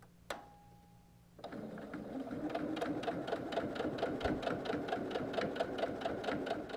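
An Eversewn QE sewing machine stitches tote bag handles: a steady, close, rapid mechanical whir with a regular stitching rhythm that starts after a short tone and keeps going to the end.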